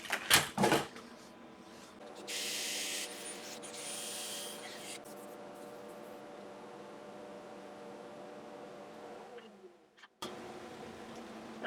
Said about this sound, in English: So now I can give the bottom a quick sand.